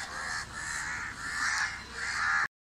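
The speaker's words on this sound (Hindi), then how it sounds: "देखिए सारे कौवे एकदम एक लाइन से चिल्ला रहे हैं।" A row of many crows caws together in a sustained, harsh chorus of overlapping calls at moderate distance, ending in an abrupt cut to silence.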